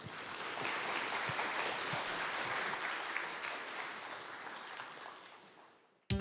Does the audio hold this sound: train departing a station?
no